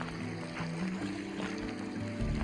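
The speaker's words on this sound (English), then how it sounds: "There's lots of little pools in this stream coming out of Rose Lake" A small mountain stream with little pools flows out of Rose Lake along the John Muir Trail, a steady, faint wash of trickling water under low rumble, without speech.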